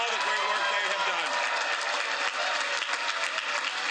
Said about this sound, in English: give them a great round of applause for all the great work they have done